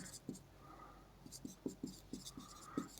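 Pen or chalk writing out a chemistry problem on moles and molecules, a series of brief scratching strokes at a steady, irregular pace, close and faint against a quiet room, no talking.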